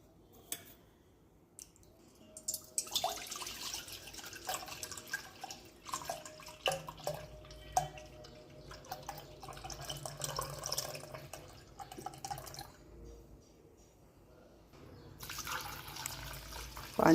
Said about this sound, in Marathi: पाणी टाकून 2-3 पाण्याने लोणी धुवून घ्यायचं